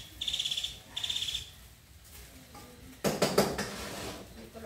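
Rice being stirred in a cooking pot while bistec encebollado is prepared, heard as a few scraping, clinking utensil strokes against the pot near the end, after two short bright tonal beeps early on, with no talk.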